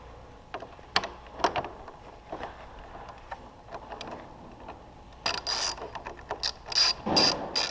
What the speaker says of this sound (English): I've got to get my bolt and tighten those down after I get all of them in.